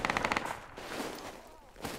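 Machine gun fire in the Project Reality military video game rattles out as a short rapid burst of shots at the start, followed by fainter distant shooting and game ambience.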